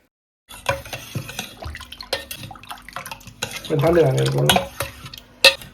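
Milk, semi-skimmed, with a little water mixed in is stirred in a bowl for an uncooked sothi: a spoon scrapes and clinks in quick, uneven strokes, close and fairly loud, with a brief swell of busier liquid swishing near the end.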